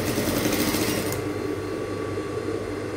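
Sewing machine stitching along the edge of a bustier, a fast mechanical whirring burst for about a second that then drops to a quieter hum, heard alone and close.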